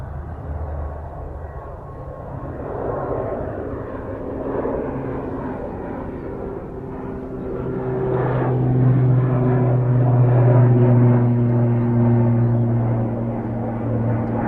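Airliner rolling for takeoff at Manchester Airport, a broad distant engine roar that swells and deepens as it builds power, steady and continuous with no voices.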